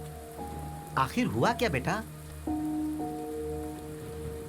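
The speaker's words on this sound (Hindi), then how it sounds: "इतनी बारिश हो रही है" Heavy rain falls as a steady hiss throughout a Hindi-dubbed film scene, under a short spoken line and sustained background music tones.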